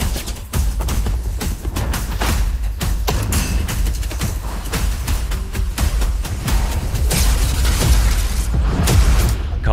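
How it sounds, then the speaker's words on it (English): Gunfire in the Call of Duty Modern Warfare 3 video game, loud rapid bursts of shots and booming impacts cracking in quick irregular succession, with denser volleys toward the end. "I spawned into the middle of gunfire."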